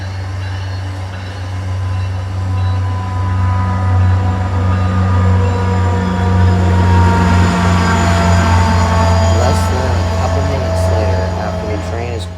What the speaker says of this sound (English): our first train of the day is an inbound bound for Boston from Providence, with MBTA 1810 leading and F40PH-3C 1056 trailing